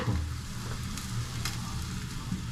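Egg, tomato, onion and rice fry in a pan with a steady, close sizzle and crackle, plus light stirring scrapes throughout.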